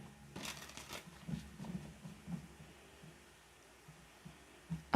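Tarot cards being shuffled by hand, soft riffling and tapping bursts coming in uneven clusters, close and quiet, with a sharper knock at the end.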